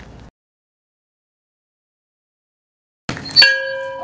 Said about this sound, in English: The old dinner bell.